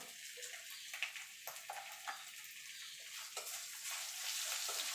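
Chopped ginger and turmeric powder stirred in a pan for a bottle gourd shukto, heard as a soft continuous sizzle with scattered light spoon scrapes and taps, quiet and close.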